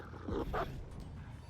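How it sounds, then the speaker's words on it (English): A dog in a video game letting out a couple of short yipping barks close together, followed by a faint low whimpering tail, fairly quiet over a muted game background. "Anyone want to pet the dog?"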